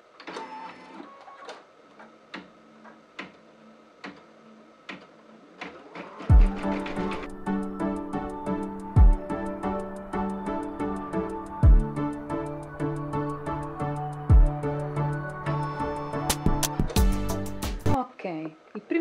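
An embroidery machine stitches a Disney Halloween design, starting with sparse clicks and then running in a fast, loud, regular mechanical rhythm with periodic thumps before it stops.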